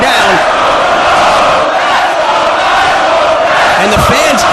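A big wrestling arena crowd in Liverpool roars and cheers steadily for Samoa Joe and Nigel McGuinness, a dense, loud wall of shouting voices with scattered whoops rising near the end.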